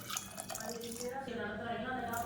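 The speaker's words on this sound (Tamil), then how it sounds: "இப்போ இதில் தேவையான அளவுக்கு தண்ணி சேர்த்துக்கலாம்." Water pouring into a pot while making chutney, a quiet splashing trickle under and alongside a voice speaking.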